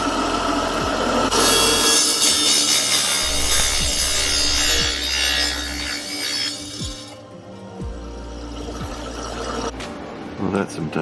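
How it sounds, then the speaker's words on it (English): A small wet trim saw bites into a slab of silver ore with a loud, steady grinding whine that fades partway, then lighter scraping and clicks, close by. "Here's my little trim saw,"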